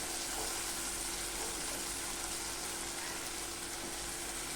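Onion and potatoes fry in a pan with a faint, steady sizzle and a constant low hum, with no talking.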